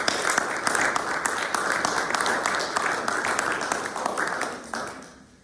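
An audience applauds panel members at a church seminary event, steady dense clapping that holds for several seconds and then fades out toward the end.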